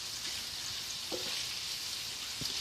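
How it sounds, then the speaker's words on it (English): Bacon frying in a pan, a soft continuous sizzle with a couple of faint utensil clicks, quiet and close, no voices. "That's why I'm trying to cook out this bacon first."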